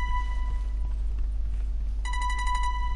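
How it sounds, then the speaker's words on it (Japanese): A telephone rings inside a video game, a bright electronic trill that starts near the end over a steady low hum. "電話が鳴っている。"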